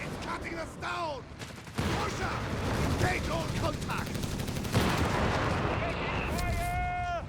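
Sniper and infantry gunfire crack in a Company of Heroes 3 match between DAK and USF forces: dense, continuous battlefield shooting with bursts and sharp reports, heard under ongoing caster commentary.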